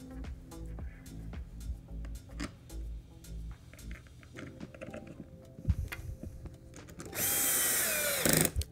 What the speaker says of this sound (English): I'll put the remaining six screws in.